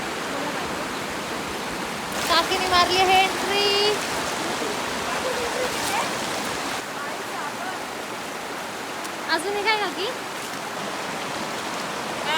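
Constant rushing of a flowing river fills the scene, steady and fairly loud, while people talk briefly over it at a couple of moments.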